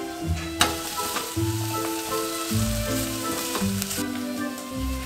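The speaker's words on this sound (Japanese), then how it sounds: "玉ねぎがきつね色になったらブロッコリーも投入" Broccoli sizzles as it hits browned onions and garlic frying in olive oil in a pot. Brisk frying noise with stirring and scraping bursts sits up close under a layer of background music.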